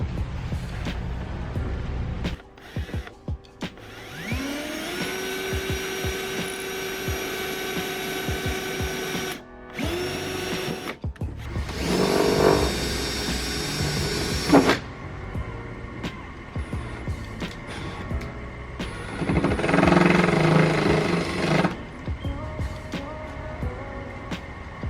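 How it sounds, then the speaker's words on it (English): A power drill boring into the body of a G37 sedan during a widebody kit install, in several long whining bursts separated by pauses, close and loud, with clattering workshop noise in between. "I'm drilling in my car."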